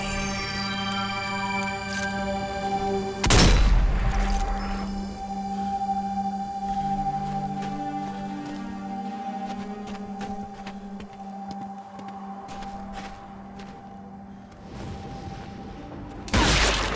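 Sniper rifle shots from the zombie shooter game Zombie Army 4, with a sharp loud crack near the start and another at the very end over steady game music.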